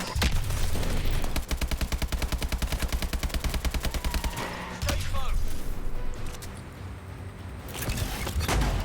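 Rapid automatic gunfire from Call of Duty: Advanced Warfare single player, a long rattling burst of evenly spaced shots followed by scattered single shots and an explosion-like crash, with some game noise between.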